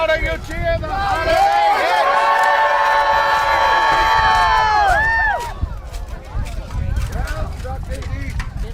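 An audience at a knights' tournament shouts for its champions, a sustained, loud wave of high-pitched cheering that drops away after about five seconds to scattered calls over low rumbling noise.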